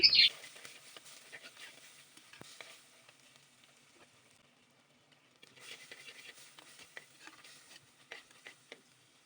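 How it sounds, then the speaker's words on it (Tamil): Finely chopped onion and crushed garlic sauté in a pan for a dried-fish curry, a soft crackling sizzle with light spatula taps that fades to a near-silent lull midway, then picks up again. "பொடியாக அரிஞ்சு வச்சுருந்த வெங்காயம் தட்டி வச்ச பூண்டு ரெண்டும் போட்டு நல்லா வதக்கிடலாம்"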